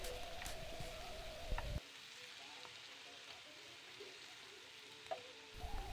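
Masala with chillies, frying for a sardine roast, sizzles softly in the pan while it is stirred, with a few scraping clinks against the pan. The sizzle is louder at the start and end and quieter in the middle.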